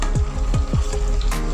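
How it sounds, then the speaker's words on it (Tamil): Ghee made from milk cream bubbling and sizzling steadily in a pan, close up, with soft popping bursts over a continuous hiss and no talking. "இந்த மாதிரி முட்டை முட்டையாக கொதிச்சு இப்போ சத்தம் கேட்கும்."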